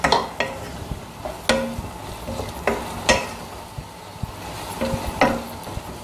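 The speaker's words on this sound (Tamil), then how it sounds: "இந்த பாவக்காய் இருக்கு இல்லையா வதக்கியிருக்கோம், அது வந்து இந்த மசாலாவோட நல்லா கலக்கணும்." Fried bitter gourd is stirred into masala in a pan for sambar, a spoon scraping and clanking in sharp, repeated strokes over a low sizzle, close and alone.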